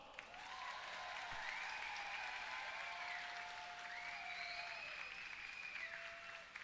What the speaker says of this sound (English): let's do some more applause, this time for all of our volunteers who make all this possible